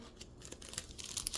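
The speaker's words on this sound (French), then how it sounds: "Excusez-moi pour ce bruit de plastique" Close, crisp crinkling of plastic packaging from a diamond painting kit being unboxed, rustling in quick irregular bursts with no voices over it.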